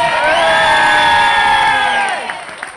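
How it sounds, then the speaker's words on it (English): Loud crowd cheering and whooping, with a sustained shout over applause, for a contestant at a New Year's Eve woodcutting competition, fading toward the end. "Round of applause you think, oh, lovely Margy should win this"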